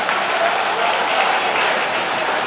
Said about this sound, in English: if you could give these guys a round of applause